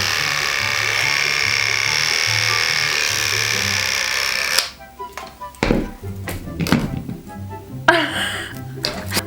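Electric hair clippers buzz steadily while cutting short bangs, then switch off partway through, followed by scattered clicks and handling taps.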